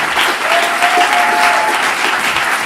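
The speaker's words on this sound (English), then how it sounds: "One more round of applause for Copado." Audience applause at a demo jam event, dense steady clapping from a crowd filling the whole stretch without pause.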